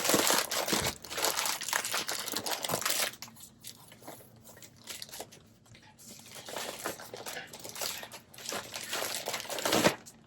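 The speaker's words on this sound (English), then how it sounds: "I'm going to fold it and put it in here." A garment is folded and pushed into a 10 by 13 plastic poly mailer, bringing loud, close crinkling and rustling that eases off midway, then returns in bursts.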